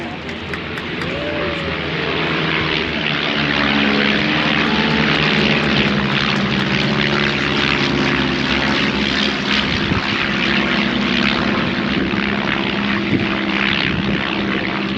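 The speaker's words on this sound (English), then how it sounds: "These are very light aircraft, comparatively, getting ready for their starburst finale." A nearly 90-year-old light propeller aircraft drones loudly and continuously overhead at an air show, its engine tone steady with a brief pitch sweep early on.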